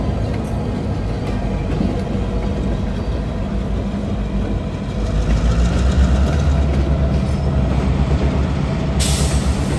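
A CN diesel freight train with GP38-2W and GP38-2 locomotives rumbles past close by at Coteau, Quebec, a steady heavy low roar with engine drone and rolling wheel noise that swells slightly midway.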